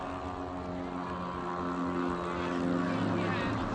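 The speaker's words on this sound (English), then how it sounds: "The aircraft takes off across the tarmac" A runaway pilotless ultralight airplane at an air show in Mangalore, its propeller engine droning steadily and loud across the tarmac, building slightly as it accelerates.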